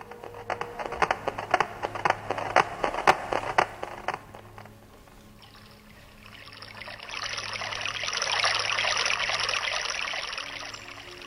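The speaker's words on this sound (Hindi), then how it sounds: "राजुली, पानी अधिक है, तुम्हारे वस्त्र भीग जाएंगे।" Water flowing in a stream: a few sharp splashes and drips come first, then a steady rushing flow swells and continues close by, with no voices.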